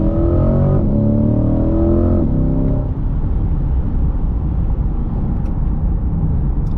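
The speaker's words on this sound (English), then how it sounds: "It's just when you begin to hit the throttle where you get that roar." Chevrolet C8 Corvette accelerating, its exhaust roaring with rising harmonic pitch through two gear shifts, then settling into a loud, broad road and engine rumble as the car cruises, heard close from inside.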